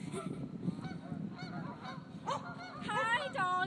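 Geese honk in a loud, overlapping flock as a dog charges at them and they flee into the water, with the honks growing denser and harsher toward the end over outdoor background noise.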